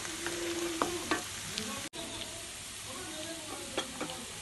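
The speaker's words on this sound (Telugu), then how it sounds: "వేసుకొని కలుపుకుంటూ ఫ్రై చేసుకోవాలి" Chicken with turmeric sizzles steadily in a pan for a Telangana-style rooster fry, with close, continuous frying hiss and occasional stirring scrapes throughout.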